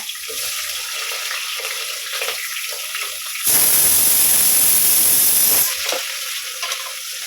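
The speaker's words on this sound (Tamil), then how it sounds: "இப்போ பெரிய வெங்காயம் ரெண்டு நறுக்கி வச்சுட்டு அதை போடுறேங்க" Soft background sizzling, then a sudden loud burst of hissing and crackling as two chopped large onions hit hot oil, settling back to a gentler fry.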